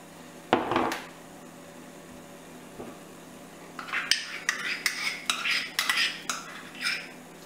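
Utensil stirring melted chocolate with honey and crème fraîche in a saucepan over a bain-marie: a soft knock, then a run of close, rhythmic scraping and clinking strokes against the pan, no talk.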